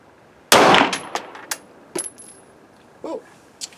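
A single sharp, loud shot from a Rock Island Armory M1911 A1 9mm handgun, followed by several light metallic clinks and taps of spent brass landing nearby.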